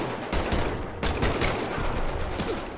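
An M1 Garand rifle fires in Medal of Honor: Above and Beyond, a World War II shooter game. Several loud, close shots and cracks follow one another in quick succession amid a dense battle din.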